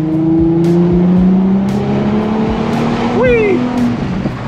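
Ford Mustang accelerating hard, its engine note climbing in a rising whine over a steady road roar. The loud, close run is broken by a few brief knocks.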